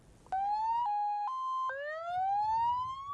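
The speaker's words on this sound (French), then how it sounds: "Une ambulance tant attendue par les fils et filles de la localité." An ambulance siren in the locality of Diabo sounds nearby, starting with a sharp rise, holding briefly steady tones, then sweeping upward again in pitch.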